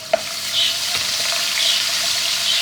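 Ginger and garlic hit a pot with garam masala, giving a short, steady frying hiss with a quick clink and stirring near the start, close and fairly loud.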